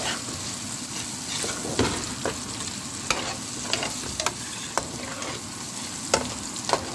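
Potatoes and onions frying in a pan, giving a constant dense sizzle broken by sharp scraping stirs at irregular intervals, close and moderately loud, with no voices.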